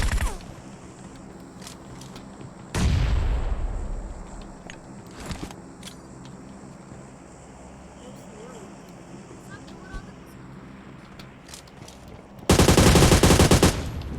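Automatic gunfire bursts in a PUBG Mobile battle, with loud sharp crack clusters near the start and a sustained roaring burst at the end, under speech and game ambience.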